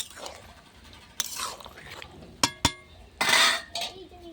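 Slit green chillies stirred in a cooking pot over a clay stove, with sharp metallic clinks of a spoon against the pot and scraping bursts spread across the moment, fairly close and moderately loud.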